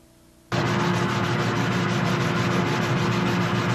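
Steady, continuous sanding of a carved block begins abruptly after a moment of quiet and continues as an even, close, hissing rub without pause.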